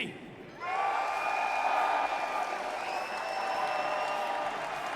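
A large esports crowd at the Munich Major grand final bursts into sustained cheering and applause, loud and continuous with a few whistles riding over the roar.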